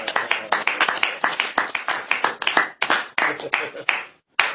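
A church congregation clapping together, loud rhythmic hand claps repeating rapidly and close for several seconds before a brief pause.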